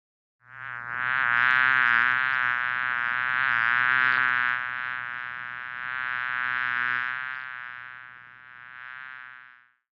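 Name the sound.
honey bees buzzing around the hive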